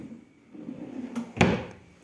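A drawer in an apartment's built-in wardrobe slides and knocks shut, a single close, fairly loud thud after faint shuffling, with no talking.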